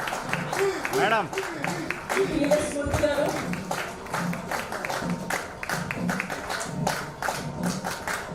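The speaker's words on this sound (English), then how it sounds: "A big round of applause to Lakshmi Pavani" An audience at a chapter launch event applauds for Lakshmi Pavani, a steady patter of many hands clapping at moderate distance while a voice talks over it.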